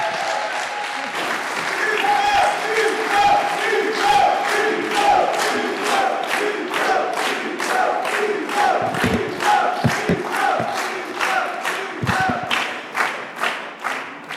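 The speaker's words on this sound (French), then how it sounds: "Un tonnerre d'applaudissements pour notre député Hugo Bernalicis" At a political rally in Lomme, a large crowd bursts into loud applause and cheering for their deputy, then settles into rhythmic unison clapping with occasional thumps and shouts, sustained and energetic throughout.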